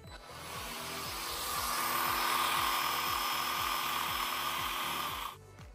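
A Parkside 20V cordless pole chainsaw runs with a steady high electric whine and a rapid rattling chain, close and loud for about five seconds, then cuts out abruptly.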